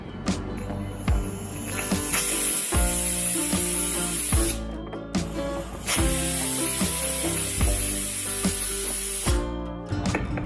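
A pressure cooker cooking tomatoes releases steam in a loud, sustained hissing whistle that stops and restarts twice, with a rattling, tonal edge throughout.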